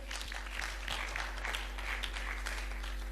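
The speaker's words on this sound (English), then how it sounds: "Let us clap hands for Jesus." A congregation claps their hands during an all-night prayer service at a church conference, a steady, moderately quiet wash of clapping with a faint electrical hum running underneath.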